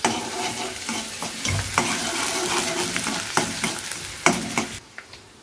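Turmeric and red masala fry in a pan for a crab curry, a loud, close sizzle with a spoon scraping and stirring rhythmically, then a sudden drop to quiet near the end, leaving a few faint clinks.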